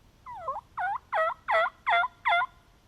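A hunter's turkey call imitates wild turkeys during a fall hunt from a tree, giving six loud, evenly spaced yelping notes close up, alone against a quiet woodland background.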